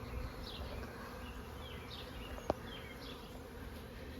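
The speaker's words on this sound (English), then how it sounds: "Bees are pretty busy." Bees buzz around garden day lilies, a steady soft droning hum with a few passing insects nearing and fading, and one brief sharp click partway through.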